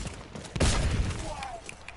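Cannon fire in a video game, with a burst of heavy, booming blasts near the start and rumbling aftermath under game noise.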